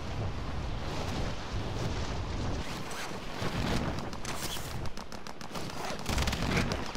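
Gunfire in Call of Duty Warzone on Rebirth Island, a dense run of rapid shots and bursts that crackle on and off for the whole stretch, loud and close, with no talk over it.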